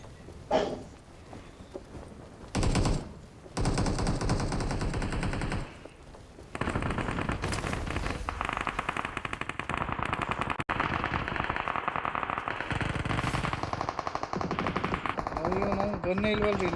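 Gunfire from the mobile battle royale game BGMI: loud, rapid machine-gun bursts and single shots come in dense runs, with short quiet gaps between them, over a noisy game backdrop.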